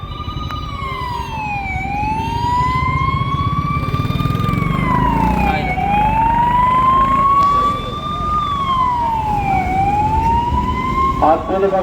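An ambulance siren wails in a slow rising and falling sweep, loud and close, over a crowd and traffic at a protest demanding a Pune–Nashik railway, with voices underneath.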